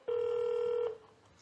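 One steady telephone tone lasts just under a second and then cuts off, sounding loud and clear during a staged live phone call in a comedy concert, with no one speaking over it.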